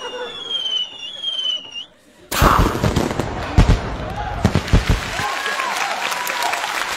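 A double-kick firecracker goes off during a Chinese comedy sketch on stage: one sudden loud bang after a quiet, whistling lead-in, followed by scattered crackles, pops and audience noise.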